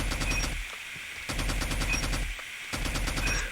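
Video game gunfire from a battle royale shooter, two rapid automatic bursts of evenly spaced shots separated by a short pause, loud and close with no talking.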